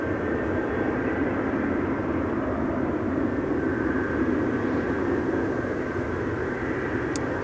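A KLM Embraer 190 airliner arriving on Schiphol's Buitenveldertbaan runway 27, a steady, loud broadband engine roar that holds constant throughout, with no talk.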